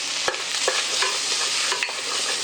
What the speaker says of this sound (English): mix that all together. Make sure all of the ingredients are coated with that seasoning and tomato paste